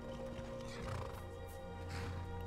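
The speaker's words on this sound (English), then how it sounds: "Where's my horse?" A horse in the video game Skyrim gives a short whinny alongside clip-clop hoof sounds, quiet and brief with no talking.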